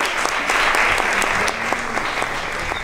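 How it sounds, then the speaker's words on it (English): Audience at a live script reading applauds the actors, producing loud, dense, continuous clapping close by that stays steady throughout the short burst. "And now we can clap the actors."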